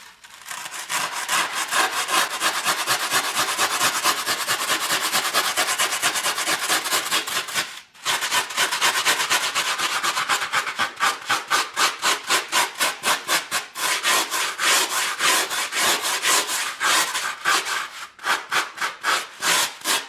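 Shaving down the bottom of a fiberglass air box part: loud steady abrasive rasping runs continuously, briefly stops, then resumes as rapid rhythmic back-and-forth strokes close up.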